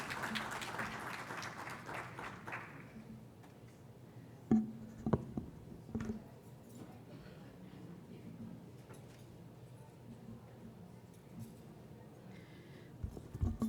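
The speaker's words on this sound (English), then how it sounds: "Give a round of applause." An audience gives applause at a medical talk on heart health. A brief burst at the start fades quickly into quiet room tone, broken by a few scattered knocks and shuffles.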